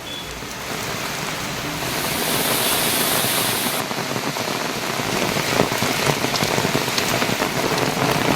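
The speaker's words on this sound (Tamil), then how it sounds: "கன்னியாகுமரி மாவட்டத்தில் தொடரும் கனமழை." Heavy rain pours steadily across Kanyakumari district, a dense, continuous hiss of drops on surfaces that stays loud throughout and grows slightly heavier partway through, with no voices.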